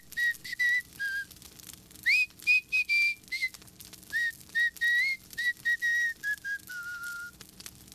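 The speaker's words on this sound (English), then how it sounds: "All I remember is one of the henchmen whistling." Someone whistles a lilting tune alone, clear, close notes rising and falling in a steady melodic rhythm with brief pauses between phrases.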